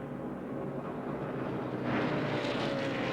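NASCAR race trucks roar around the track at Pikes Peak, a dense continuous engine drone that swells louder toward the end as they pass.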